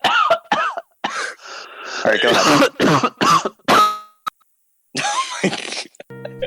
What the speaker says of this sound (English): stop coughing on my podcast